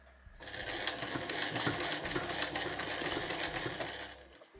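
A sewing machine stitches a fabric shoulder strap in one steady, fast, close run of needle strokes that starts abruptly and stops at the end, with no talk over it.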